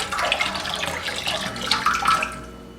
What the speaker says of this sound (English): I'm just going to put in about a cup of my apple cider vinegar.